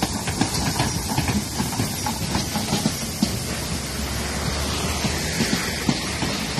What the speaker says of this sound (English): Here comes another one, fifth train in less than 2 hours.